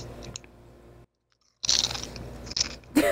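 Doritos chips crunched in close bursts, a short chewing crunch, a gap of silence, then a louder cluster of crisp crunches near the end.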